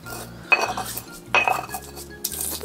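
Coriander is ground with a mortar and pestle in a home kitchen, giving three sharp clinking strikes at a steady pace with quieter scraping between them.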